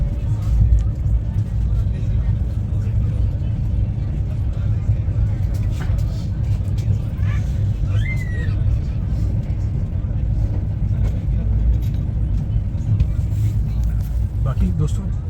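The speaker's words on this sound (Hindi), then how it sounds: "अच्छी खासी गाड़ी ने जो है यहाँ पर आते आते रफ्तार पकड़ ली है।" The 12310 Rajdhani Express from Delhi to Patna runs at speed, heard from inside as a constant heavy low rumble and rushing noise with a few faint higher tones over it.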